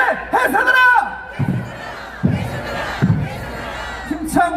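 A crowd at a Korean Republican Party political rally shouts protest slogans in unison. The chant comes in loud, powerful bursts, with a single voice leading between the group shouts.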